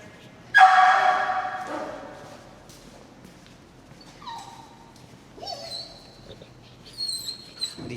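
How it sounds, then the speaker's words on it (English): A dog digging around a tire in straw gives a loud bark or yelp near the start, then softer whimpers and scattered rustling and footsteps follow. "Okay, Mika's barking at something."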